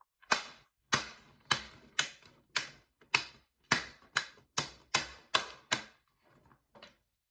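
A laptop back plate is clipped back on, giving about a dozen sharp, close plastic snaps in an even, fairly quick rhythm, followed by a couple of fainter clicks, with no talking.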